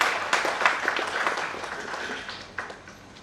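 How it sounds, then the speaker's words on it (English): Audience applause at an awareness program's opening remarks in Noida, a moderate patter of clapping hands that is loudest at the start and thins out gradually over a few seconds. "Please welcome her again with a huge round of applause."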